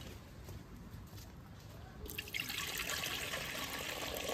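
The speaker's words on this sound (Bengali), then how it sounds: "হাড়িতে আমি জল দিয়ে দিলাম" Water pours into a cooking pot set on a lit clay stove for boiling rice, a soft trickle that swells into a steadier, louder splash about halfway through, with no voices.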